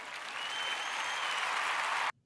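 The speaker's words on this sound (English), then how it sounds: "Let's clap about this." Applause from a crowd during a sports discussion, a steady dense wash of clapping that holds evenly for about two seconds and then cuts off abruptly.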